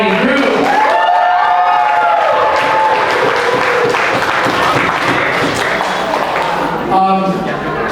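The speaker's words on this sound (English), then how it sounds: "give it a round of applause for the bride and groom." Applause for the bride and groom fills a wedding reception hall, a loud, steady wash of clapping from a crowd lasting several seconds, with voices and background sound mixed in.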